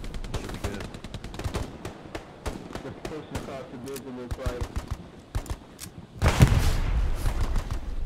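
Rapid bursts of machine gun fire in Hell Let Loose, sharp repeated cracks in quick rhythmic strings, then a louder sustained barrage near the end, with battlefield noise between bursts.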